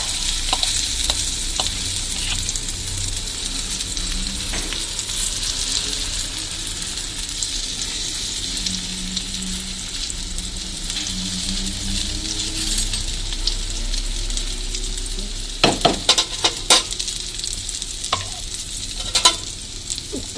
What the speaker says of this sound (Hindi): अम्मी ने सबके लिए एग बना लिए, ये ऑमलेट हमारे लिए बन रहा है।